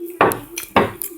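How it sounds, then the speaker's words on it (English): Dishes clatter at a sink as a water-wet plate, emptied of microwaved pizza rolls, is rinsed off, with two louder close knocks of crockery over a faint running-water hiss. "So, you see, plate is empty. It's got water on it. I'm gonna wash it off a bit."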